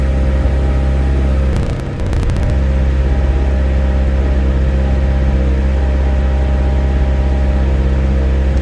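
A McLaren 720S engine drones steadily and loudly at held revs with a strong low hum, briefly dipping with a short rattle near two seconds before settling back to the same even tone.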